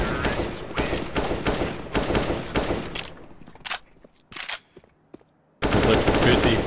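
Rapid automatic gunfire from CS:GO fills the first three seconds in dense bursts, drops to a few scattered shots during a quieter gap, then resumes loudly and continuously at the end.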